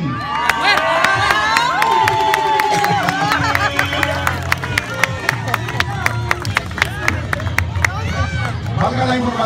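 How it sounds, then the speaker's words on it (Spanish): A crowd of children and adults at a youth football (U13) championship celebration claps and cheers, loud shouting and chatter over sharp rhythmic hand claps. "Un aplauso para Jorge Agustín."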